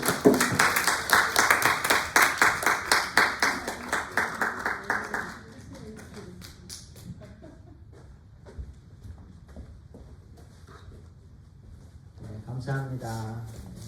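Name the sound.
applause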